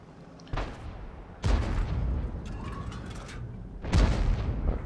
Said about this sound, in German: Schuss geht direkt raus und trifft 709